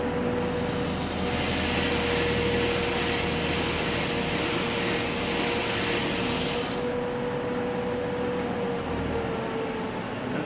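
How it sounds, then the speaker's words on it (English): A disk/belt sander strips polyurethane sealer off a wooden board, producing a loud, steady whirring roar with gritty abrasive hiss that eases off near the end, close by with no talk. "as I sand, it will take that sealer off and it will sand the board down"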